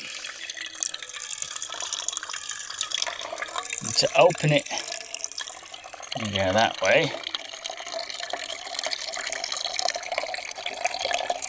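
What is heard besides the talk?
water pouring from water container tap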